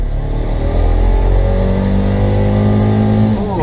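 A Bajaj Qute small car pulls away and accelerates, its engine tone rising steadily and sounding loud and close from inside the cabin, with no talk over it.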